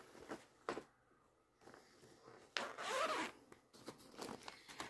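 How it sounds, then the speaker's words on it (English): Zippers on cross-stitch project bags are opened and closed in several quick, close rasping pulls, with one longer zip in the middle and short pauses between them. "And sorry for the zippers"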